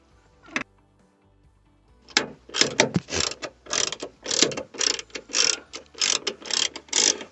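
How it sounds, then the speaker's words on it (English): A T20 driver ratchets screws into the plastic-covered rear hatch bracket of a 2003 to 2006 Porsche, with one short burst, a pause, then a steady run of close, rapid ratcheting clicks that come in bursts. "using a T20 we're gonna screw the screws back in"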